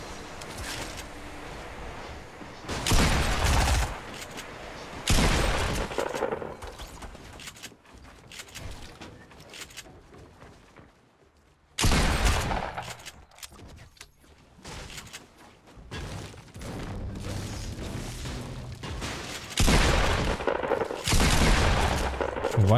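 Video game gunfire with a Desert Eagle pistol: several loud bursts of shots and booms separated by quieter stretches, each burst sharp and close, with no talking.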